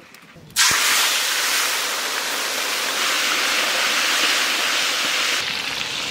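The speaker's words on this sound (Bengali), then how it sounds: "মাছগুলো সুন্দর করে ভেজে নেব।" Turmeric-coated fish dropped into hot oil in a heated kadai, bursting into a loud, steady sizzle that starts abruptly and holds close and strong throughout, with no talking over it.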